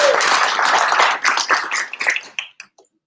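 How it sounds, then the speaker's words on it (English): A small crowd at a networking breakfast claps for some kids, a burst of applause that thins into scattered claps and dies out within a few seconds. "Let's have a round of applause for these kids."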